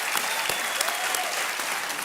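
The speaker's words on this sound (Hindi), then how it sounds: "एक बार फिर ताली।" A studio audience at a televised quiz show claps steadily, a dense continuous wash of applause with no pauses, heard close and filling the whole stretch.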